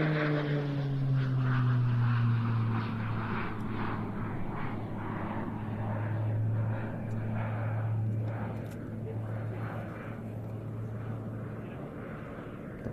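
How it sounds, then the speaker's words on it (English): A Slovenian Air Force PC-9M Hudournik turboprop flies an airshow display, its loud, steady propeller drone rising and falling in pitch as it passes and maneuvers overhead. "one of the most remarkable displays that you will ever see by a turboprop aircraft, packed with some mightily impressive negative G flying"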